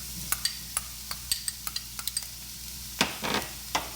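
Green peppers sizzle softly in a pan while a spoon stirs and taps, producing a series of sharp clicks and scrapes over a faint frying hiss, close and without talk.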